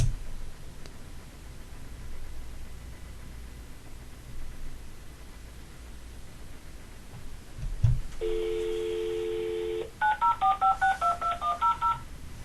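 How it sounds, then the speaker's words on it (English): LG ipLDK-60 office phone redials a call, giving a click, a steady dial tone, then a fast run of about ten DTMF keypad tones, clear and close in a quiet room. "Simply press OK to redial the call."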